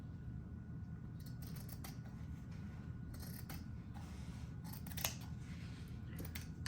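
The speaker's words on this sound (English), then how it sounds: "I think I'm gonna trim it on the top and the bottom, just a little" Scissors snipping across fabric to trim the top and bottom edges of a junk journal cover, a run of quiet close cuts in short bursts over a low background hum, with no talking.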